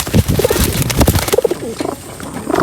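Pigeons in a loft during late molting, giving a dense chorus of low, rolling coos close by, with several birds overlapping and a few soft wing flutters.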